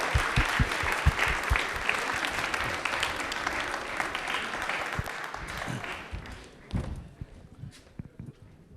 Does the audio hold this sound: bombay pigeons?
no